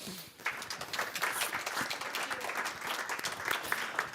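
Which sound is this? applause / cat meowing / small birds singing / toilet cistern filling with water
applause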